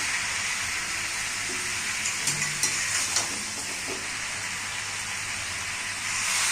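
Raw mango pieces with turmeric and salt stirred in hot oil, giving a steady soft sizzle with a few light scrapes and clinks of the spoon partway through.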